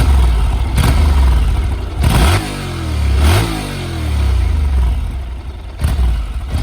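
A Honda NC700X motorcycle with stock exhaust is blipped from idle, two quick revs rising and falling in pitch over a low rumble, close and loud.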